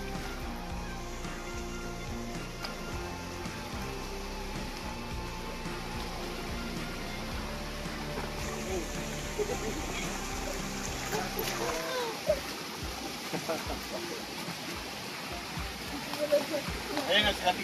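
A strong river current rushes steadily in a continuous, full-bodied roar of flowing water, with people talking faintly over it throughout.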